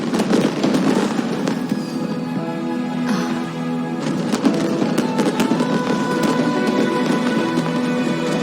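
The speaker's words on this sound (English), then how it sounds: "Did you see that? Way over there, a firework that looks just like a pig!" Fireworks bursting at a Genshin Impact festival event, a dense continuous crackle and popping with scattered sharper bangs, loud and sustained over steady game music throughout.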